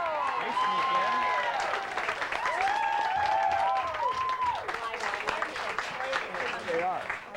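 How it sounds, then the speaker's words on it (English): A television studio audience claps for several seconds, the applause steady and fairly loud while people talk over it and musical tones sound in the background. "How about a little applause for our Fan Tram audience?"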